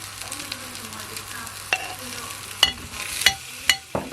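A teaspoon of onion frying in a pan for a sweet chili prawn garnish, a soft close sizzle punctuated by a few sharp spoon clinks and scrapes near the end.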